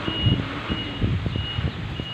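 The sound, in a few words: delivery truck reversing with reversing beeps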